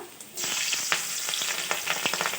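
Chopped garlic and green chilli drop into hot oil in a pan, setting off an abrupt, loud sizzle that keeps crackling steadily with small pops and stirring clicks, no voices.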